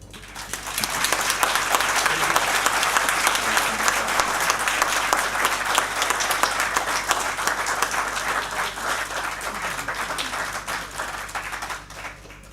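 Full audience applause at a bar association annual meeting for a law firm founder receiving a professional award, swelling quickly into a dense, steady roar of clapping that holds before tapering off at the end.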